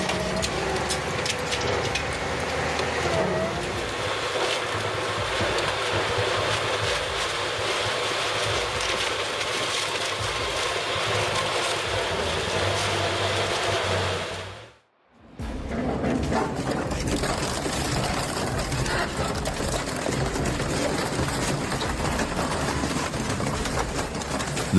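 Industrial scrap shredder crushing a three-wheeled vehicle between steel shafts, a steady loud grinding and mechanical roar with metallic rattling, broken by a brief near-silent cut before the churning resumes.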